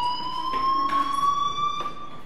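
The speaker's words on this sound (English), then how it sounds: "do you hear that fire alarm?" School fire alarm ringing in the video game Life is Strange, a steady loud electronic tone that holds throughout, with faint clicks and movement noises beneath.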